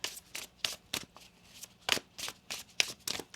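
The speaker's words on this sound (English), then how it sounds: "One more shuffle." Tarot cards are shuffled by hand in a quiet room, giving a series of quick, crisp riffling flutters and soft slaps in irregular bursts, fairly close.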